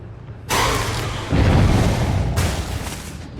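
A sudden deep boom bursts in during Dead by Daylight gameplay, followed by a second heavy blast and a rumbling roar that fades out, with no talking.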